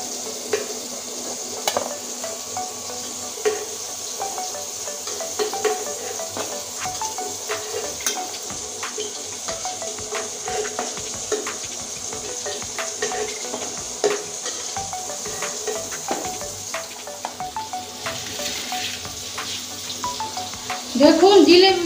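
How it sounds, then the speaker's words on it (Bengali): Jalebi made without chhana sizzles steadily in hot oil for the whole stretch, a continuous crackling fry with occasional clinks of a utensil, fairly close, with a louder stir near the end. "এগুলো দেখুন লাল করে ভেজে নিয়েছি।"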